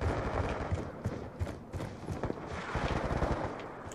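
Rapid gunfire from a Call of Duty Black Ops 2 match crackles in dense bursts and single sharp shots throughout, fairly close and continuous with no clear pauses.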